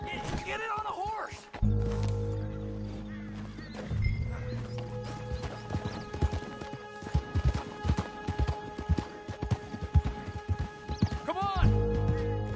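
In Red Dead Redemption 2, a horse gallops with rhythmic clip-clop hoofbeats and gives a short whinny. Character voices talk over the hooves throughout.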